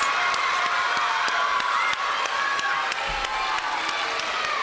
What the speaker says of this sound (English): Let's give a round of applause to all of our Citizenship Award winners.